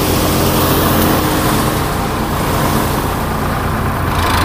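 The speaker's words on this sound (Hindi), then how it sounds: "सोनालिका ट्रैक्टर 745 पे अच्छा चल रहा है" A Reinforce thresher threshing mustard in Fatehgarh, Pratapgarh, Rajasthan, driven by a Sonalika 745 tractor, gives a loud, steady mechanical drone with a low engine throb and a broad rushing hiss that holds unbroken throughout.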